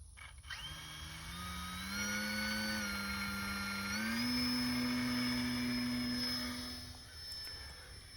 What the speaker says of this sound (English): here we go with the maiden flight of the RadioLink airplane.